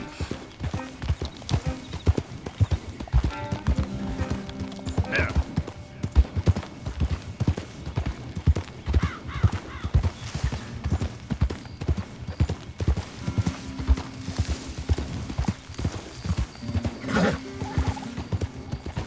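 Steady clip-clop of horse hooves in the video game Red Dead Redemption 2 runs throughout, with several whinnies rising above the rhythm and a brief spoken word.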